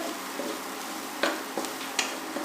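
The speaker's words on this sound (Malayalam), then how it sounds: "അരപ്പൂടെ ചേർത്ത് നമുക്ക് മിക്സ് ചെയ്തിട്ട്" A spoon stirs ground coconut spice paste with onions in a hot frying pan, with a steady low sizzle and a few sharp scraping knocks against the metal.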